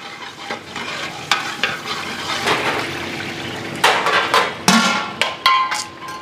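Masala frying in oil for a village-style mutton head curry while being stirred: a steady sizzle runs throughout, broken by scraping strokes and sharper clanks of the spoon against the pan, louder in the second half, heard close with no speech.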